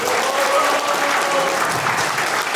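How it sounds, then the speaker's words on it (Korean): Big, loud round of audience applause at a Black Yak company launch ceremony, dense and continuous clapping throughout with a faint tone of background music or voices underneath. "큰 박수가 필요합니다."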